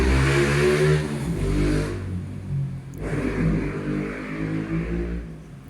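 Motorcycle passing by on a street, a loud mid-pitched engine revving as it goes past close and then fading as it moves off, with no talk.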